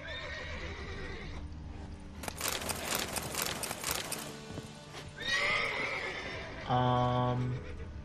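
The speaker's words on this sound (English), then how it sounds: "Shut up, horses." Horses in The Witcher 3: Wild Hunt whinny loudly several times over hoof clip-clops, with a short burst of sustained tonal game sound near the end and a voice partly underneath.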